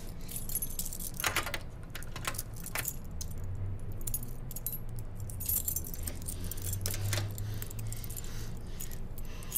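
A bunch of keys jangles and clinks steadily as someone tries one key after another in a lock, close and fairly quiet, with irregular metallic rattles and a low hum underneath.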